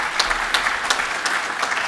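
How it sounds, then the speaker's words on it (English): Audience applause fills a meeting hall at a TransLink annual general meeting, honouring the board members: steady, moderately loud clapping from a crowd, continuous with no talk. "So a round of applause for our board members."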